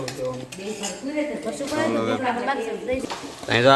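Paneer dropped into a hot pan for cashew paneer curry, a close sizzle with clinking utensils against the pan, heard beneath a person talking.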